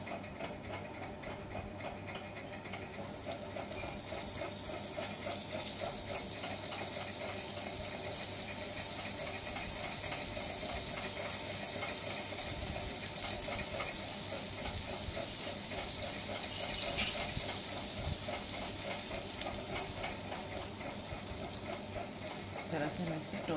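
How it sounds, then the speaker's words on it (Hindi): Butter sizzles on a preheated electric sandwich toaster, a soft steady hiss with faint fizzing crackle that runs continuously under quiet background noise. "अब यहाँ पर मेरा जो टोस्टर है मैंने इसको गर्म कर रखा है, तो अब यहाँ पर थोड़ा सा मक्खन लगाकर"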